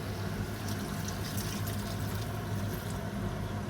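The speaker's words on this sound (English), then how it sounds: "mix in the residual spice blend in with the water" Water poured into a residual spice blend for a lamb tajine, a continuous close liquid splash and trickle lasting a few seconds without pause.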